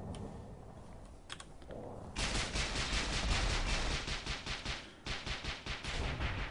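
Mortar and disc launcher fire in Tribes Ascend during a competitive capture-the-flag ladder match, heard as a dense run of sharp, rapid bursts that swell after a quieter opening, with no talk over it.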